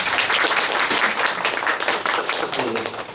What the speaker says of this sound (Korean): 박수도 한번 부탁드립니다.